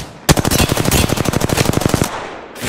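Sustained machine gun fire in Apex Legends, a loud, steady stream of rapid shots lasting nearly two seconds before cutting off, with a brief burst resuming at the end.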